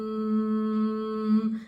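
Steady humming voice imitating a bee during Bhramari pranayama breathing, one sustained nasal tone held for over a second, close and fairly soft, then trailing off at the end.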